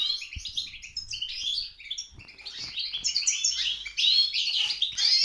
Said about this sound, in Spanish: Ahí están los pajaritos canturreando.